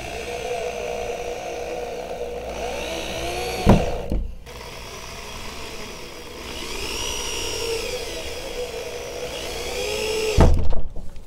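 A power drill driving screws into a door sweep whirs steadily close by, pitch rising and falling as it works, with a couple of sharp knocks and clunks.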